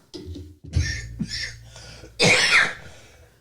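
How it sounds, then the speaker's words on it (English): A few rough coughs, close and fairly loud, the last burst the strongest, with short quiet gaps between them. "poor guy is still coughing with a cold"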